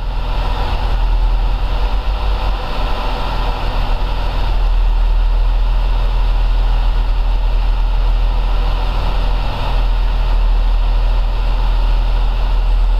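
Steady, loud engine drone of a Mercedes-Benz Viano 3.2 van running on LPG while driving, a continuous low rumble with no talk.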